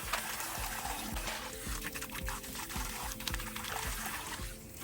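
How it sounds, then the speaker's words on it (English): Tap water runs into a kitchen sink, rinsing garlic and salt off a stone molcajete. It is a steady, faint splashing stream with small clinks and rubbing as the mortar is handled. "we're going to take it over to the sink to rinse off the garlic and the salt"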